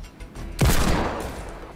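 Assault rifle fire in Fortnite: a sharp, loud burst of gunshots starts abruptly and rings out over about a second, decaying into a lingering tail with no talking.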